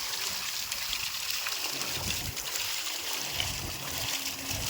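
Water gushing steadily from a borewell motor pump outdoors, a continuous hissing, splashing flow heard close and moderately loud with no talking.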